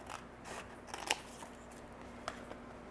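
Scissors cut paper in faint, intermittent snips and crisp clicks at close range, two sharper cuts standing out against a quiet background, with no talk.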